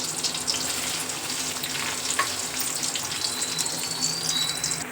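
Green chillies and onions frying in hot oil in a pan, a steady close sizzle running throughout with faint clinks and stirring, no voices.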